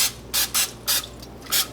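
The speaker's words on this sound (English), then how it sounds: "I'm gonna give these a quick spray" Cooking oil sprayed onto battered chicken wings before air frying: four short hissing spurts with brief pauses between, close and fairly loud, with no talk.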